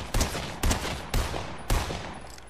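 A video game gun with a slow fire rate fires four loud, evenly spaced shots about half a second apart, each with a sharp crack and short decay.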